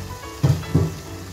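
Pre-marinated chicken meat goes into a hot pan for chicken bharta, giving two quick, close bursts of sizzling and clatter over a low, steady frying hiss.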